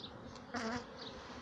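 At an open hive in a Cihanbeyli apiary, honey bees drone steadily, with one bee swelling louder as it passes close midway before the hum settles back.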